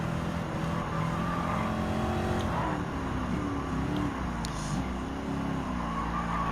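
Race cars in Gran Turismo 7 drone steadily through a lap, engine pitch rising and falling with gear changes and a brief tire squeal, continuous and close.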